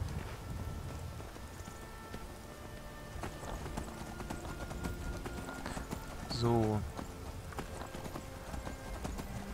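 Horse hooves clip-clop along at a quick pace in a Skyrim game soundscape, with a brief louder burst and light patter beneath; a voice speaks briefly.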